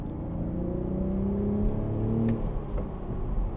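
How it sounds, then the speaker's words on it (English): A 2025 BMW Z4 M40i pulling hard after a single downshift, the engine note rising steadily in a continuous loud drone heard from inside the cabin. "we're gonna downshift once here and then fire it"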